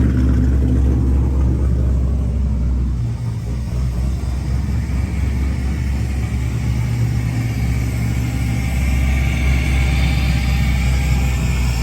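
A swapped-in LS V8 idles in a 240 car with a deep, steady, loud rumble close by, and the exhaust note dips briefly about a quarter of the way through.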